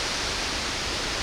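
Halang Jiao waterfall on the Bolaven Plateau along the Pakse Loop pours out a dense, even roar of falling water that stays unchanged through the short stretch.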